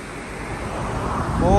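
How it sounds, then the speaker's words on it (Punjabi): Fast-flowing Ganges river water on the stretch between Rishikesh and Devprayag, heard as a steady broadband rushing roar that swells slightly louder toward the end, with wind buffeting the microphone. "ਪਾਣੀ ਦਾ ਬਹਾਅ ਬਹੁਤ ਹੀ ਜ਼ਿਆਦਾ ਤੇਜ਼ ਆ"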